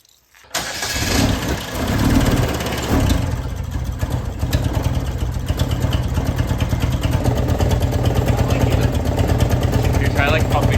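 A car engine fueled with Dr Pepper and barbecue sauce starts up and keeps running with a loud, rough, steady chug close by while a person talks.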